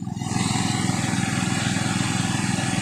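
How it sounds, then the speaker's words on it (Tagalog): A small engine powering a power sprayer runs close by, a loud, steady buzzing drone with a rapid pulsing rhythm, picking up just after the start and holding even. "Yung isang makina natin guys, doon sa kabila, yung power spray."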